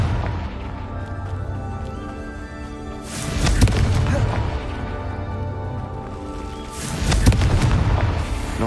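Confringo explosive spell from the Hogwarts Legacy video game, two heavy booming blasts some seconds apart, each a loud close crash with rumbling decay over a steady droning game-music bed.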